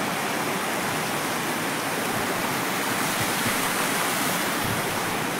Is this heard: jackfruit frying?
no